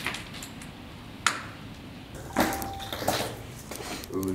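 A cell phone pings once inside an abandoned building in Birmingham, a short clear tone amid scattered clunks and footsteps in a quiet, echoing room.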